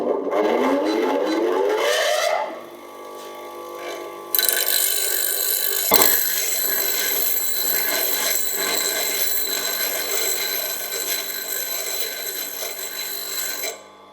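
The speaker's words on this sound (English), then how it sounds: "sharpening chisels with a bench grinder" A bench grinder whines steadily as a steel point chisel is sharpened against the wheel, with a high ringing tone that changes pitch partway through and shifts as contact varies.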